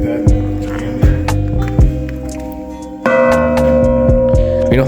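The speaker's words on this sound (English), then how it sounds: "the fire bell was for a fire" A fire bell at a car museum rings out in a series of loud, resonant metallic strikes, each leaving a long humming decay. The strokes come at uneven intervals and a heavier strike lands near the end.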